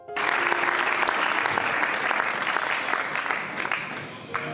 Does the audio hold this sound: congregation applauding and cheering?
yes